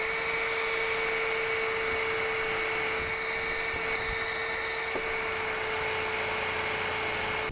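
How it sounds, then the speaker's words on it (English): A power drill bores pilot holes into wet cedar boards for a goat trough, a steady high whining motor hum running continuously and close, with a faint click near the end and no talking. "This takes a little bit longer pre-drilling these holes, but these cedar boards, when they're wet, they're not so bad"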